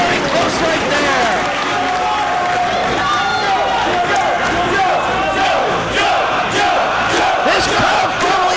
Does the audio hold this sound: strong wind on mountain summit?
no